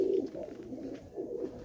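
Highflyer tippler pigeons coo nearby in soft, low rolling calls, one at the start and another near the end, with no other sound.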